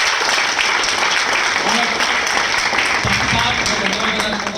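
An audience gives loud, sustained applause at a business opportunity presentation, with a dense, steady clapping texture throughout and faint voices mixed in beneath it.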